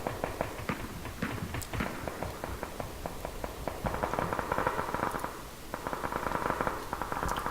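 Gunfire in the PUBG battle royale game, a scattered run of sharp cracks and pops at varying distances, some close and loud, others faint, over steady ambient game noise with no talk.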